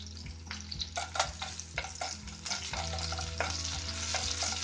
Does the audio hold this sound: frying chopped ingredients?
yes